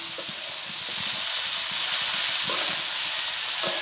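Cabbage and beans stir-fry in a pan with a continuous sizzling hiss, and soft scraping and knocking of stirring repeats throughout.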